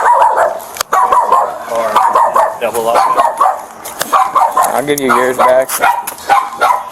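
A dog barks repeatedly nearby outdoors on a hot day during a police arrest in Okeechobee County, Florida, with sharp yips and whimpering barks mixed in while people talk over it.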